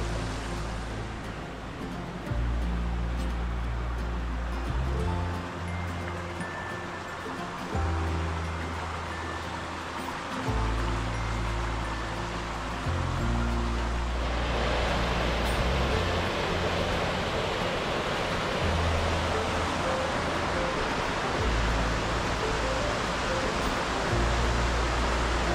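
A continuous broadband rush of falling water, steady and fairly loud, with low rumbling thuds and shifts in the background.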